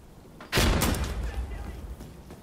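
A chemical mortar bombardment in Insurgency: Sandstorm lands as one sudden heavy blast with a deep rumbling tail that fades slowly over the next two seconds.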